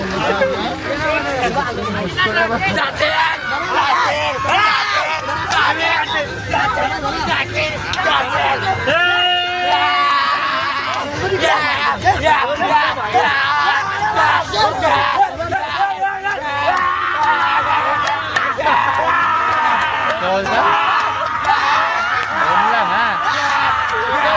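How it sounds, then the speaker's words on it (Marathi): A noisy crowd at an Ekvira temple palanquin procession fills the air with dense, continuous babble, chatter and occasional chuckles, with nearby voices talking over the din throughout. "यांचा गोंगाट बघा, गोंगाट बघा यांचा"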